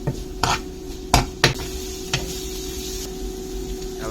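Ginger garlic paste and green chillies being sautéed in hot oil, with a steady faint sizzle under several sharp clinks and scrapes of a metal spoon against the pan, close by, with no talking.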